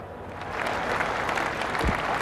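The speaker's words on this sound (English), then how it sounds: "The applause ringing around the ground now for Ian Botham" A crowd at a cricket ground in England applauds a bowler's 300th Test wicket, a steady, broad wash of clapping heard from a distance that swells slightly and holds.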